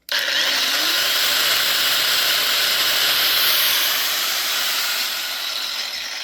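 SEESII grinder running at its top setting of 10,000 RPM, a loud, steady high-pitched whine with a hissing edge that holds for several seconds and eases slightly toward the end, with no talking.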